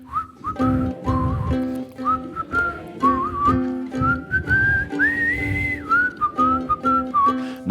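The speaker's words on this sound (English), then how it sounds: "Now you sing, I'll whistle." A person whistles a simple ukulele song tune alone, a clear, moderately loud melody of held and sliding notes with a soft strummed accompaniment underneath.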